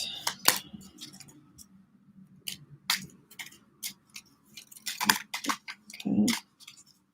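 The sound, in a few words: tarot cards being shuffled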